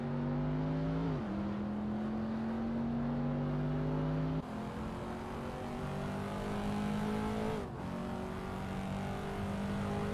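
A race car engine drones loudly and continuously in a racing video game, its pitch climbing steadily through gears with abrupt drops at shifts, no voices over it.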